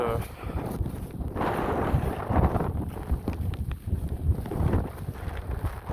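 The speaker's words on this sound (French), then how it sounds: "Ce matin-là, il faisait vraiment froid avec beaucoup de vent et de pluie." Strong, cold morning wind buffets the microphone on an island road trip, giving a continuous rumbling roar that swells and eases, with a voice speaking at times.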